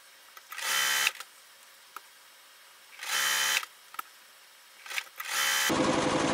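A home sewing machine chain-pieces quilt blocks of 6.5-inch squares and nine-patch units, whirring in three short bursts of stitching separated by quiet pauses and small clicks, then running into a steadier noisy stretch at the end.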